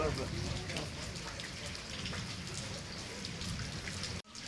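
Heavy rain in Karur falls as a dense, steady hiss of drops hitting surfaces, loud and continuous throughout before cutting off abruptly near the end.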